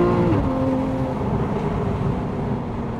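A 2015 Porsche 911 Carrera GTS (991) revving at high RPM on a test drive, a loud, sustained engine howl heard from inside the car that eases slightly in pitch over a few seconds.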